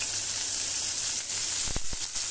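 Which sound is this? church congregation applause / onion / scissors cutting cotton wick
onion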